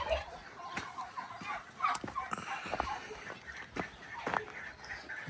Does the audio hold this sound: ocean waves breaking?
no